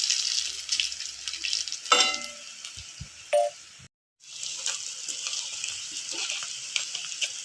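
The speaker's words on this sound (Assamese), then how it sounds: "মই এনেকৈ গোটেই বৰকেইটা ভাজি ল'ম।" Small vadas for dahi vada frying in hot oil, a steady bright sizzle with a few brief clatters and a short pause near the middle before the frying resumes.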